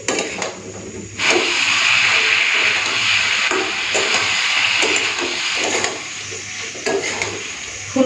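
Cauliflower, potato and fried egg sauté in spiced oil with a loud, steady sizzle and hiss, broken by occasional scraping of a spatula against the pan, close by and without voices.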